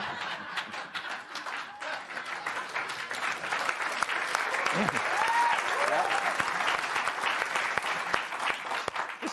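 A studio audience bursts into sustained applause, dense clapping that swells in the middle and then starts to taper, with some voices mixed into the noise of the crowd.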